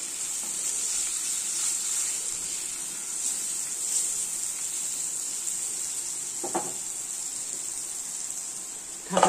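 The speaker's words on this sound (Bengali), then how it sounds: "এখন আমি ওলগুলোকে ঢাকা চাপা দিয়ে একটু লাল লাল করে ভেজে নেবো।" Pieces of steamed elephant foot yam fry in oil in a covered pan, giving a steady, even sizzle with a faint stir or clink near the end.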